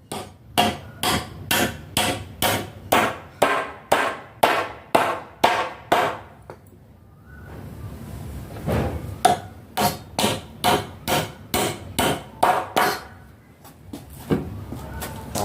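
Loud, evenly spaced hammer blows drive nails into a door frame, ringing out in two bursts of about a dozen strikes each, separated by a short pause, close by.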